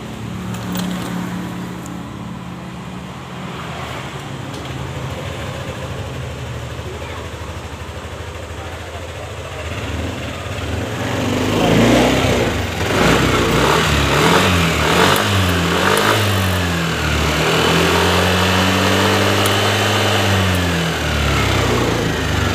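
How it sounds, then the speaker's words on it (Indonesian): A small Yamaha NMAX scooter engine, one whose starter clicks and cuts out, turns over and catches, its idle rising into a steady rumble, with a person talking nearby. "Nah ini motor udah mau nyala ya bro."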